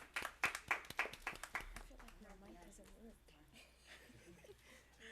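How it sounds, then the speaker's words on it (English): Audience applause at a junior council meeting, a burst of claps for about two seconds that fades into room murmur and scattered voices. "You guys all deserve an applaud"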